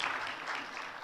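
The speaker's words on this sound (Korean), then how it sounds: "우리 박수로 한번 격려하겠습니다." A church congregation claps together during a worship service, a dense, steady round of applause filling the room for about a second.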